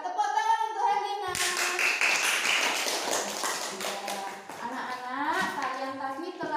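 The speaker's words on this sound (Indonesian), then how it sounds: "tepuk tangan untuk Helena" Children in a classroom clap together for a classmate, a loud, dense burst of close hand claps that overlaps with voices before and after.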